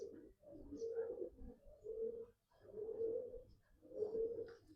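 Pigeon cooing, a small female pigeon of a distinct bloodline, with four low rolling coos repeating in a steady rhythm, close and clear with no talk over them.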